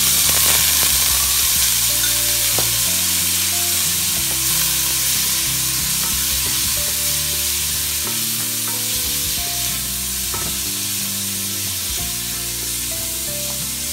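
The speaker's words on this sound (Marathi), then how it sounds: "मी ह्याच्यातच थोडी हळद टाकणार आहे आणि आपण आधी हे प्रॉन्स फ्राय करून घेणार आहोत।" Prawns fry in hot oil with turmeric in a pan, giving a loud, steady sizzle with intermittent stirring scrapes throughout, close up and with no voices.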